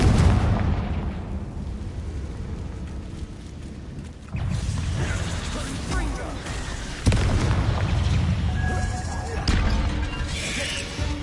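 Booming blasts of the Confringo fire-explosion spell in Hogwarts Legacy, several heavy bursts a few seconds apart over game ambience, with a voice speaking between them.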